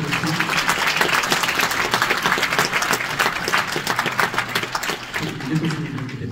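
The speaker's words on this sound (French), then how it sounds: "Applaudissez-les, ils sont dans la salle de film." Audience in a cinema hall at a Paris film festival opening ceremony claps for the competition jury, steady dense applause that carries for several seconds with a slight dip near the end.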